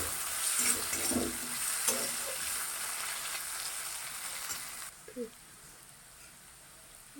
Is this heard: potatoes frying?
yes